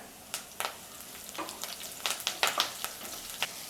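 Chopped garlic and curry leaves go into hot oil with popping mustard seeds, giving a soft sizzle broken by sharp crackles and spatters that grow busier toward the end, with no voices.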